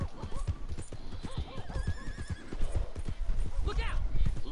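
A horse whinnies and its hooves clip-clop in Red Dead Redemption 2, with rhythmic hoofbeats running throughout and a neigh rising near the end, while voices talk over the game sounds.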